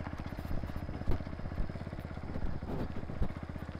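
A Kawasaki W175 motorcycle engine chugs steadily up close, with rhythmic pulsing and occasional bumps and rattles as it rides along a damaged road.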